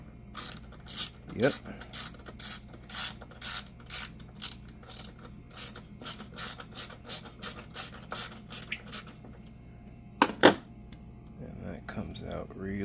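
A ratchet fitted with a T30 bit clicks in quick repeated bursts while undoing bolts on a C8 Corvette panel. The rapid pawl clatter comes close and clear, with a few sharper metallic knocks near the end and a short spoken word.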